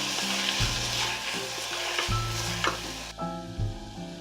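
Onion and tomato sauté in a pan for a South Indian sambar, a steady close sizzle running throughout, with a low hum and a few stirring scrapes and clatters breaking in along the way.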